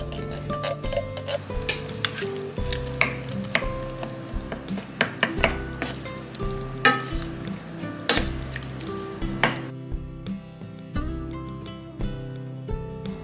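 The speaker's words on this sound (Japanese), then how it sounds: "トマトを崩しながら炒めます。" Ground meat frying with canned whole tomatoes being broken up in a pan, a run of sharp utensil clinks and scrapes over a low sizzle, busy at first and then sparser, with no talking.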